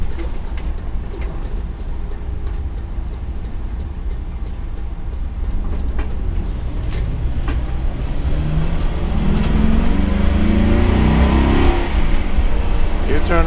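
A 2016 Thor Motor Coach ACE 29.2 motorhome drives and makes a U-turn at an intersection, its engine a steady low rumble with road noise that builds and grows louder toward the end, while someone talks over it.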